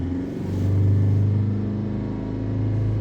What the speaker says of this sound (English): We're going to rev it up to 3000 RPM.